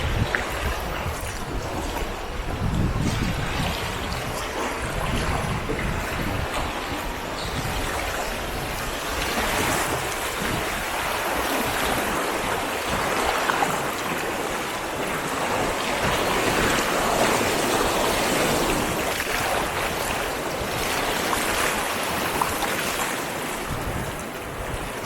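Waves slap steadily against a bamboo raft on a fast, choppy river during a rafting trip in Thailand, a continuous loud wash of water with wind noise across the microphone and no clear talk.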